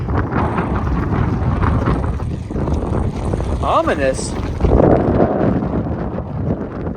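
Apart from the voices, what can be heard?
strong wind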